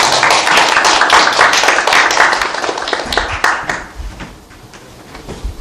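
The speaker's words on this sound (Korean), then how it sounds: "우리 목사님께 환영의 박수 한번 올려드리도록 하겠습니다" Church congregation applauding in welcome for a visiting elder pastor, dense close clapping that thins after a few seconds into scattered claps and then fades.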